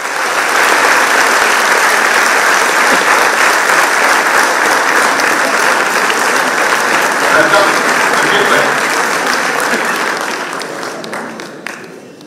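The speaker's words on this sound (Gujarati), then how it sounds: "અંકિત ત્રિવેદીને જોરદાર તાળીઓના સંઘાથી આપણે મંચ પર આવકારીશું" A stage audience at a Gujarati literary event bursts into loud, sustained applause as poet and speaker Ankit Trivedi is welcomed. The dense clapping holds steady for about ten seconds, then thins and fades out.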